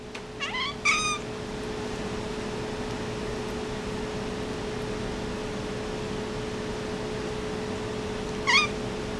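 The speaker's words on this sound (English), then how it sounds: "I petted a cat, and it didn't attack me." Domestic cat meowing in a quiet room, two or three short meows close together near the start and another single meow near the end, over a steady fan-like hiss.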